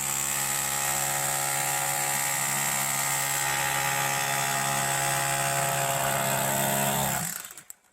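A hammer drill excavates pyrite-bearing rock while prospecting for gold: a loud, continuous, high-pitched buzzing drone that holds steady for several seconds and then cuts off abruptly near the end.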